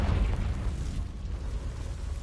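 A Confringo fire spell detonates in the Hogwarts Legacy video game with a deep, rumbling boom. The blast fades over about two seconds into a low residual roar.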